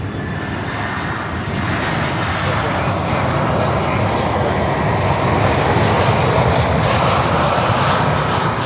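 Latam Boeing 767 jet airliner at Miami airport, a loud continuous engine roar heard from nearby that builds slightly over several seconds with no pause, and no talking.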